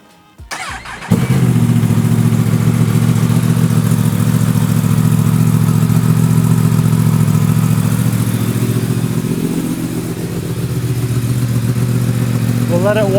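A tuned Yamaha R1M superbike cranks and fires up close by, then settles into a loud, steady, throbbing idle that holds evenly for over ten seconds.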